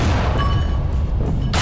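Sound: explosions in video game Garry's Mod

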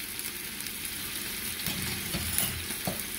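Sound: pork ribs frying in a pan

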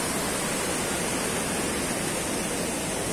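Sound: flowing water at the source of the Cali river

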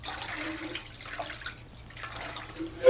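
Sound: potatoes being washed in a large bowl of water

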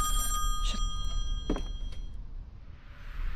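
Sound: telephone ringing in the video game Song of Horror

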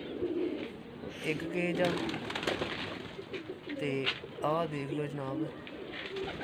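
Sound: pigeons cooing in cages, Faisalabad pigeon setup

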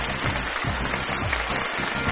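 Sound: audience applause welcoming a guest

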